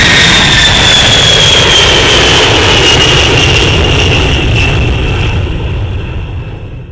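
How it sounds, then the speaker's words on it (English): A B-52 jet bomber takes off with a loud, roaring engine blast and a whining high tone, the sound staying heavy and steady before thinning out as it climbs away. "Notice, too, that the B-52 takes off and climbs in a relatively"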